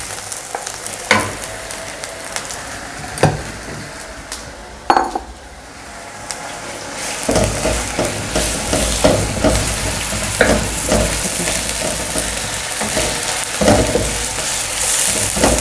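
Half a kilo of minced meat hits a pan of lightly browned onions for a Pakistani keema matar, loud steady sizzling with stirring scrapes and occasional clinks of utensil against the pan, no voices.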